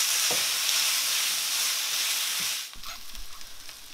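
Butter sizzles and fries hard in a hot pan with softened, lightly caramelized onions for black pepper beef, a steady loud hiss that drops off near the end as a few soft stirring scrapes follow.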